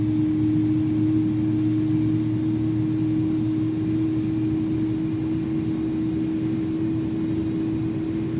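An iniBuilds A300-600 airliner taking off in X-Plane 12, a steady loud engine roar with a constant droning hum that holds evenly throughout, no voices over it.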